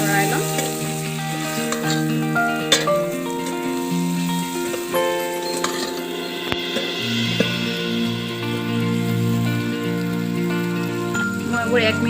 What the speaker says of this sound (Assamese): ভালদৰে লৰাই ল'ম।